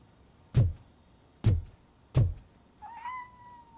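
A cat named Grumpy in the game RoboCop Rogue City, preceded by three heavy close thuds at an even pace, then a single short plaintive meow, faint and alone against quiet.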